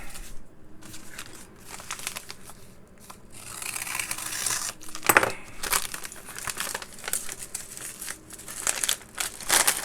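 A paper postal bag is torn open by hand: continuous crinkling and crumpling with sharp tearing bursts, close and fairly loud, with no talk.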